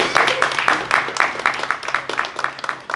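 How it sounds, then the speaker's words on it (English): A meetup audience claps for the evening's speakers, a short burst of scattered, close clapping from a modest crowd with uneven rhythm. "Can we hear a round of applause for our speakers?"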